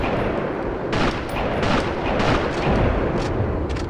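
Machine gun fire raking a wooden wall in the PS2 game Sniper Elite, a dense stretch of sharp cracking bursts over a heavy rumbling battle bed, loud and close, with several distinct impacts standing out.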